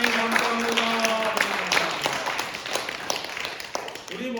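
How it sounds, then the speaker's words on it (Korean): A church congregation claps together in thanks during a worship service. The brisk, scattered clapping from many people runs on its own and fades slightly toward the end. "감사의 영광의 찬양의 박수 올려드리겠습니다"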